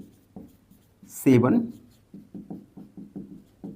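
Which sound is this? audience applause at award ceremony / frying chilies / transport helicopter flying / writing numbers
writing numbers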